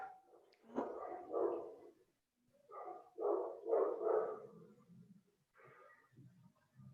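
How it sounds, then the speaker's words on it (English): A dog barks in short bursts, several close yaps and bow-wows in uneven clusters over a few seconds, with quieter whimper-like tails between them. "the dog is barking"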